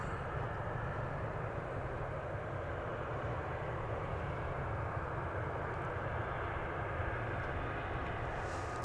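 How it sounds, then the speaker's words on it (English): A Volaris Airbus A320 airliner bound for Mexico City at DFW Airport gives a steady, broad jet engine roar heard from a distance outdoors, unbroken throughout with no talk. "Volaris flight 4801 is going to Mexico City. It's a Airbus A320."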